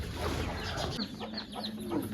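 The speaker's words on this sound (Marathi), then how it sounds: "चला यात कोंबडे खायला लागलेले आहेत." Freshly hatched chicks and hens on a rural farm clucking and peeping while feeding, several soft close calls over faint background noise.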